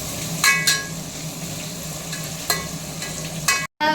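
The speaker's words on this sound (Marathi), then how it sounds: "आता या फोडणीमध्ये आपण आले लसूण पेस्ट टाकत आहोत." Ginger garlic paste sizzles in hot oil during a tempering for sambar, a steady crackling fry close by, broken by a few sharp spoon scrapes against the pan.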